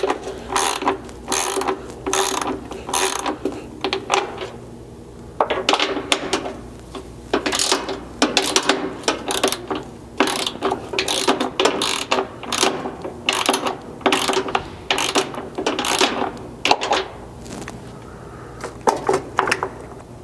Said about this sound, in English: The reason we switched to a ratchet here is because we just want to loosen these